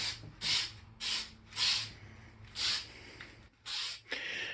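An aerosol spray paint can hisses in about seven short, regular bursts with brief pauses between, close up, during a K5 Blazer restoration.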